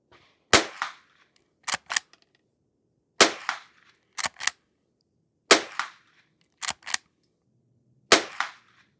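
A Henry H001 lever action .22 rifle fires bulk ammunition at targets, the sharp cracks coming in quick pairs about every 1.5 seconds, with faint mechanical clicks of the action between shots and no talk.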